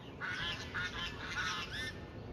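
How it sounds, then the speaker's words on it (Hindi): Ducks quack repeatedly in short nasal bursts over a steady outdoor hiss, several calls overlapping at moderate distance, the ducks bathing in cold water in the morning. "देखो आपको बत्तख दिख रही होगी"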